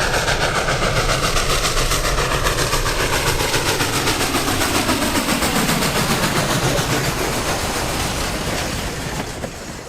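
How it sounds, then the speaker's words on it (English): Norfolk & Western 611, a streamlined steam locomotive, rolls past with loud, rapid rhythmic chuffing and clattering wheels on the rails, a steady pulsing roar that gradually eases as the train moves on. "this classic streamlined steam locomotive has been a famous excursion star for decades"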